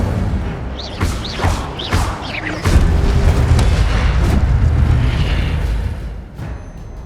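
A fiery Incendio spell blast from Hogwarts Legacy erupts in a heavy booming rush after several quick whooshing casts, the roar of flame lingering loudly for a few seconds before fading.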